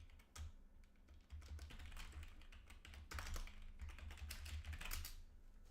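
Fingers typing chat messages on a computer keyboard: quick, uneven bursts of light clicks and taps, soft and fairly close, over a low background hum.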